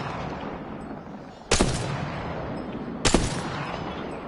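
Two sharp sniper rifle shots in a video game, about a second and a half apart, each cracking loudly over a constant low background hum.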